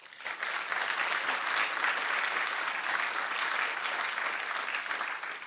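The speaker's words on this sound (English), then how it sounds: "That deserves an applause." A crowd at a governor's announcement of a cancer-fighting facility breaks into steady, even applause that swells quickly and holds at a strong, uniform level for several seconds.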